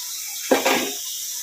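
A small splash of water poured into a pot of drumstick leaves soup with chopped onion and tomato: a short, soft burst lasting about half a second over a steady background hiss, with no voices.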